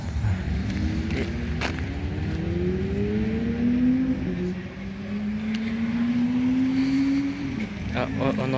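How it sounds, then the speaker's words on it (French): A Porsche 911 Carrera engine drones in the distance at a club track day at Nogaro circuit, a steady rising tone that climbs, drops back and climbs again under continuous nearby crowd and wind noise, with people talking. "on entend la Porsche au loin"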